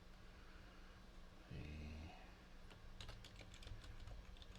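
Quick, light keystrokes on a computer keyboard patter in a short irregular burst during a tabletop role-playing session. The typing sits faint and close over a low hum and a brief tonal buzz.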